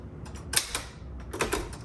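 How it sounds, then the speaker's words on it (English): Margin release key on a 1961 Underwood Five manual typewriter, heard as a few sharp mechanical clacks and clicks in two clusters, close and fairly loud. "I want to finish my word, so I hit margin release,"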